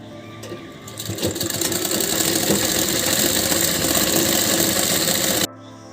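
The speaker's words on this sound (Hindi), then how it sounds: "हम इस पर लंबा टाका चलाएंगे" A sewing machine running a long stitch along the folded edge of blouse fabric, giving a steady, loud, continuous mechanical whir with fast rapid ticking that starts up, runs for about four seconds and stops abruptly.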